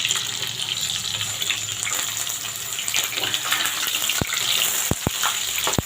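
Okra coated in a rice-flour and gram-flour batter fries in hot oil, giving a steady, close, loud sizzle with a few sharp pops toward the end.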